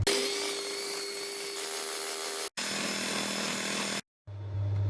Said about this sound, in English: after about 4 to 5 minutes of mixing the butter